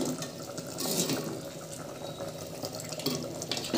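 Water pours steadily into a clay pot of mushroom mix being cooked, a continuous soft splashing and trickling at moderate distance, with no speech.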